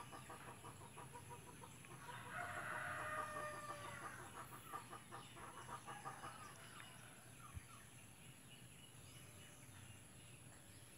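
Shamo chickens on a farm crow and cluck, with one loud, drawn-out crow rising in the middle over a continuous bed of softer clucking and calls, all fairly faint and distant.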